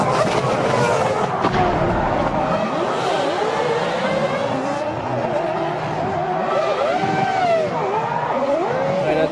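Formula 1 cars, a Red Bull and a Ferrari, racing at speed in 2005, engines whining with rising and falling pitch sweeps as they pass. The sound is loud and continuous with faint commentary underneath.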